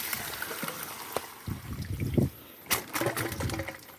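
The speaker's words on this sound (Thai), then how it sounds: "น้ำไหลตรงนี้" Water trickling and flowing along a shallow stream edge near an eel trap, a soft continuous wash with a few splashes and bubbling bursts, close and moderately quiet.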